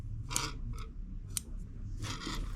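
Scissors snipping yarn for a handmade crocheted coin purse: several close, crisp cuts spaced irregularly, ending in a longer rustling snip, with no talking.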